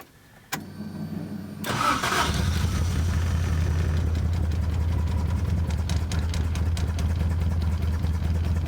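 A 1975 Toyota Corolla KE35 with a blown exhaust cranking and starting, then settling into a loud, rough, uneven idle that continues steadily up close.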